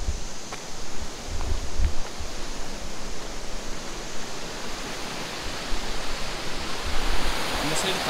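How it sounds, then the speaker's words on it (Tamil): A stream of water flowing down from Jogini Falls beside a trekking path makes a steady, close rushing wash that carries on unbroken throughout. "இந்த சைடு தண்ணி போகுது பார்த்தீங்களா, ஜோகினி ஃபால்ஸ்லேருந்து வர தண்ணி தான் இந்த சைடு கீழே அப்படியே போகுது."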